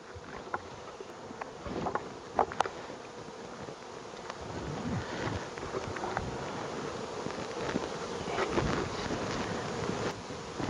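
Honeybees buzzing around an opened hive while a super is added in September, a steady faint insect drone with scattered louder passes of individual bees flying near, under light wind.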